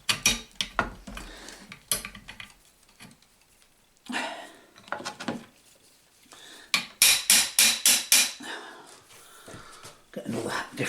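Metal hammer blows striking tight self-aligning bearings onto a shaft, scattered single knocks then a rapid run of about six sharp close taps, with pauses and faint handling noise between.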